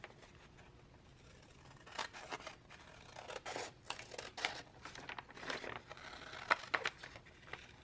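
Scissors snip and trim fabric on a composition journal cover in a series of short, close, crisp cuts with light rustling of the material, quiet and without talk.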